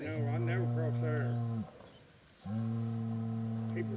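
A bull lowing in long, steady, deep moos, two sustained calls broken by a brief pause, heard somewhat distant over a faint outdoor background of insects.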